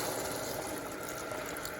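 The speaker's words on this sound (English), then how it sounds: "still with the saute function on, we're gonna pour some of the chicken broth in there" Chicken broth pours into a hot Instant Pot on the sauté setting after browning meat, a short, steady liquid rush and sizzle at close range.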